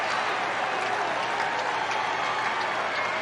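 Phillies fans in a ballpark applaud and cheer steadily after Marsh's home run in a 9-3 game, a dense, even wash of clapping and crowd noise throughout.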